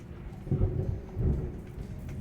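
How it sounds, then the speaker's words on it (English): Heavy thunder rumbles through a thunderstorm, with two deep low booms swelling over steady rainfall, loud and close with no voices. "There's a crazy thunderstorm happening right now."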